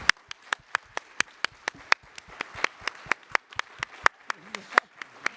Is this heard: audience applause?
yes